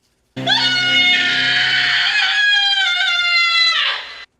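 A boy's long, piercing scream from the film Troll 2, one sustained shrill cry lasting about four seconds, loud and close, cutting off abruptly at the end.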